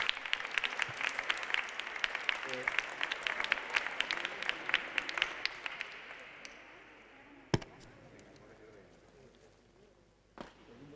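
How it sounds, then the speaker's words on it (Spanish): A crowd in a sports pavilion applauds at a chess tournament trophy ceremony. Brisk clapping is loud at first, then thins and fades over several seconds, leaving a few isolated knocks and faint room noise. "Aplausos."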